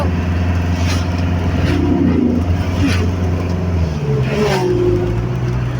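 Motor vehicles, motorcycles, passing on a quiet, deserted mountain road, with engine drones rising and falling across several passes, heard close under the steady hum of the vehicle carrying the listener.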